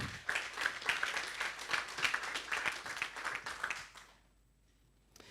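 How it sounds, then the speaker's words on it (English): An audience applauds an award recipient standing up at the Pursuit of Prime Award 2019 presentation, with dense, steady clapping for about four seconds that then fades quickly into near silence. "Erwin, please stand up, and I will ask you to applaud him."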